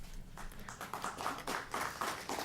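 Scattered clapping from an audience at a city council meeting, a handful of people applauding in uneven bursts, fairly quiet and brief with no talk over it.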